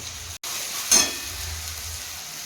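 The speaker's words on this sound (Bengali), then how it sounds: "তো ওটা আদা রসুন পেঁয়াজ সব কিছু দিয়ে কষানো হচ্ছে গোটা গরম মশলা গোটা রসুন" Ginger, garlic and onion frying with whole garam masala and whole garlic cloves, a soft steady sizzle broken by a brief dropout and one louder burst of spitting near the start, fairly close with no voices.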